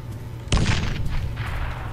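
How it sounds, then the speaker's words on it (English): A grenade blasts indoors in ARMA 3, a sudden loud boom halfway through that rolls off into a decaying rumble, with no talking. "I'm gonna throw a grenade in here"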